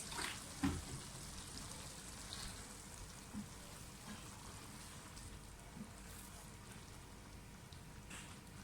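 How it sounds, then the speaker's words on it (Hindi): About half a cup of water is poured into a pot of white chickpea curry, producing a faint, steady splashing hiss with a soft knock near the start and no talking. "जितना हम इसमें इसकी ग्रेवी रखना चाहते हैं उतना पानी डालेंगे"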